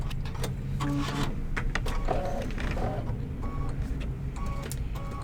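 An embroidery sewing machine stitches out a Kimberbell tote and casserole carrier design, a quiet, busy mechanical chatter of rapid ticks and clunks with a few brief whirring tones, steady and moderately close.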